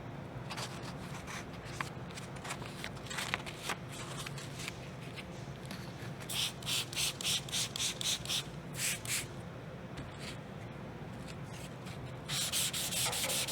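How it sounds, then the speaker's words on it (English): Hand sanding with 400 grit sandpaper over filler on a clear coat drip, a run of rhythmic back-and-forth scratchy rubbing strokes, close and steady, with no voices. "So it's actually sanding a lot faster."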